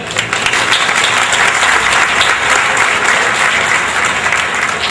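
A crowd claps steadily in sustained applause, dense and even throughout, with no pauses or talking over it.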